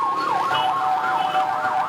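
A wailing ambulance siren sweeps up and down steadily in the congested traffic of Port-au-Prince, loud and close, with faint road noise underneath and no voices.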